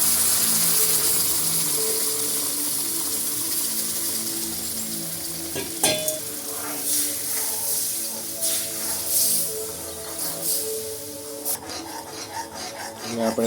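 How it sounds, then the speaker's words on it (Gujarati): Hot water hisses into a pan of jaggery and bajra flour, followed by steady scraping and stirring with a sizzling undertone, with several sharper clinks partway through. "પછી હવે આપણે પાણી જે ગરમ કરીને રાખ્યું હતું એ એડ કરી દઈશું."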